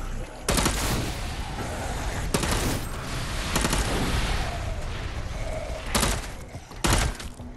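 Gunfire crackles in Dead Island 2 with several sharp, loud bursts spaced a second or two apart over a noisy, busy background.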